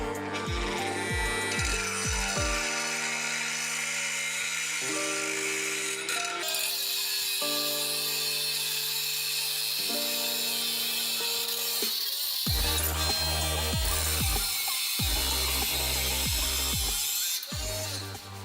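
Homemade cordless angle grinder built around a 775 DC motor and old laptop batteries, whining loudly and steadily close by, its pitch rising and falling as it speeds up, slows and restarts several times.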